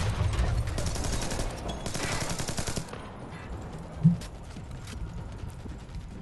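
Rapid bursts of gunfire in Splinter Cell: Blacklist rattle for about three seconds, then quieter intermittent shots and a dull thud follow.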